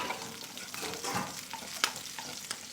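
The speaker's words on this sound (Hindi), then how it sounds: "घी गर्म हो गया है। अब हम डालते हैं चिकन" Chicken pieces fry in hot ghee, giving a close, steady crackling sizzle with scattered sharp pops and soft stirring scrapes throughout, no voices.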